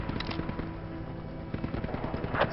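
Rapid gunfire from the military shooter game Project Reality comes as a steady stream of quick, evenly spaced shots at moderate loudness over a droning vehicle-like hum, with a sharper burst near the end.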